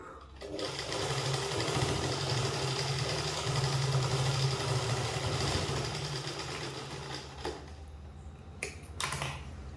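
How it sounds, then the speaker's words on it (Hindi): A sewing machine runs a fast continuous stitch over elastic on a twelve-panel kali palazzo, whirring steadily for several seconds before slowing and stopping with a few short clicks at the end. "अब मैं इस पे यहाँ पे एक सिलाई लगा दूंगी इलास्टिक के ऊपर ही।"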